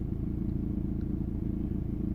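A 1.9 TDI diesel engine idling with a steady low rumble and a continuous fine rattle, like loose plastic or rubber shaking with the engine, close and fairly quiet with no voices.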